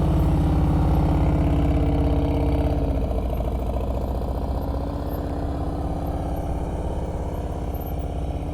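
A motorcycle engine chugs steadily at low speed with the throttle held during advanced slow-speed riding practice in Ohio, a continuous near rumble that eases slightly partway through, with no talk.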